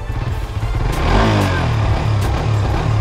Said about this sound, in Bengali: অ্যান্ড একটু স্টার্ট দেই বাইকটা